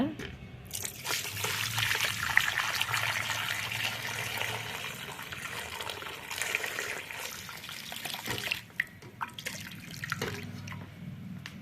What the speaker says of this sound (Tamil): தண்ணி நல்லா சூடு பண்ணி இதில் அப்படியே போட்டுடலாங்க.